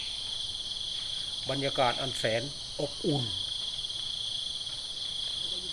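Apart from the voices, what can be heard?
crickets chirping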